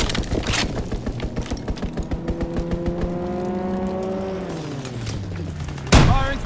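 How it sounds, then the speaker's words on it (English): An enemy aircraft strafing run in the World War II shooter Call of Duty: WWII, with rapid rhythmic gunfire and a droning plane engine that sweeps past and drops in pitch, ending in a sharp crack. "Enemy strafing run incoming!"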